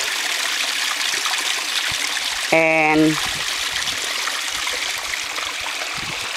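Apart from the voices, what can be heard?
water flowing in a small creek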